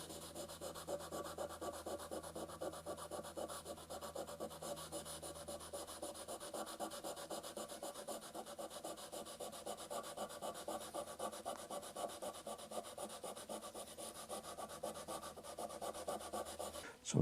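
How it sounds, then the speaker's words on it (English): Steady abrasive scrubbing on a painted wooden stool treated with degreaser, a continuous dense rubbing rasp that runs without pause at close range, with no voices. "I'm going to put a little bit of the degreaser here on some of these worst spots. And then scrub it"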